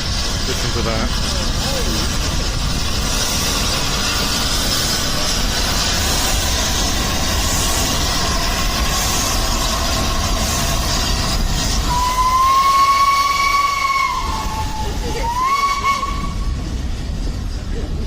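Flying Scotsman steam locomotive heard in played footage: a continuous loud rumble of a train in motion, with a whistle sounding toward the end.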